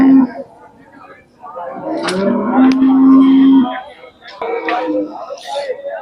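A Khillar cow lows at the Sangola cattle market in Solapur, Maharashtra, first with a short call, then with a long, loud, drawn-out moo. Voices talk nearby around the calls.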